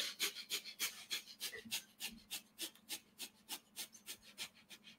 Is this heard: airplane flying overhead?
no